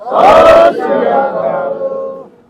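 At a large Sikh political workers' gathering in Punjab, a crowd shouts back in unison to the call Bole So Nihal, one loud collective roar that trails off into a sustained chant.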